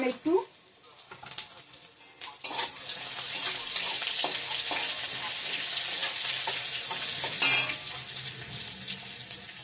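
Panch phoron spices hit hot oil for a Bengali mustard rohu fish dish, bursting into a loud, steady sizzle after a few quiet kitchen clatters.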